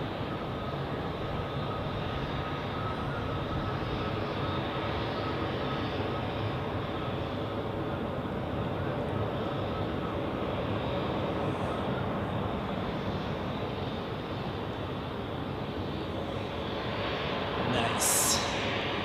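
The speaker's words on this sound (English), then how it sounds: "arrival right in front of us. So let's take a look. Embraer 190 of Helvetic" A Helvetic Embraer 190 arriving at Zurich Airport, a steady broad engine roar that stays constant and moderately loud throughout, with faint speech underneath.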